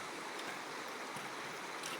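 The Dumalon River in Tulungtong, Zamboanga City, flowing beneath a hanging bridge, a steady broad rushing wash of water heard from above, continuous and even with no talking.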